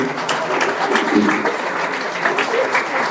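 Audience applauding a speaker at the inauguration of the Village By CA in Toulouse, a steady, full round of clapping from a sizable crowd, heard alone without talk.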